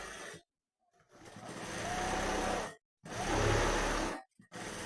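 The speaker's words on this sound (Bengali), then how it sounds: "এইবার এগুলোর উপর দিয়ে একটা চাপ সেলাই দেবো" A sewing machine top-stitches the seams of Patiala pants, running in steady loud bursts of about a second and a half each, separated by short pauses, with no talk.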